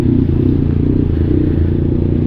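A Yamaha MT-09 big bike idles loud and close, a steady low engine rumble with a rapid pulsing beat and faint mechanical clatter, with no other sounds.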